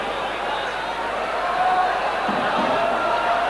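At a flyweight boxing bout, a large crowd backs local fighter Sitbang Prachan with a steady, loud roar that swells slightly midway, while a commentator talks over it.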